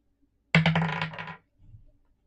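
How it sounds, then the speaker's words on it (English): Dice rolled during a cozy livestream clatter in one sharp, rattling burst that fades over about a second, then a softer, shorter rattle follows as they settle; no talk. "Let's see what dice landed on."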